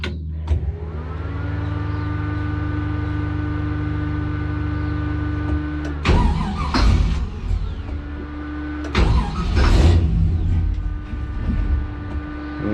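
A chopped 1951 Chevy's ignition cycling with a steady electric hum and whine, then two bursts of cranking and sputtering engine noise as the car tries to start, close and fairly loud.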